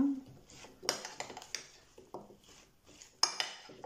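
Endive, apple and walnut salad tossed in a bowl, with soft clinks of utensils against the dish and scattered light scraping, quiet and close with pauses between strokes.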